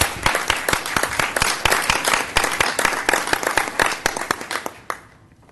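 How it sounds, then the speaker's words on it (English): An audience claps for students receiving awards at a school board meeting, a steady spatter of hand claps that thins out and stops near the end. "let's just give them a round of applause"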